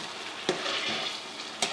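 Chana dal stir-fried in a hot pan gives a steady, soft sizzle broken by two brief scraping strokes of a spatula.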